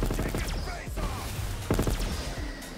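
Ray gun blasts in Black Ops 3 Zombies with a ray gun mod, firing in rapid overlapping bursts with sharp electronic zaps and impact crashes, loud and continuous across the stretch.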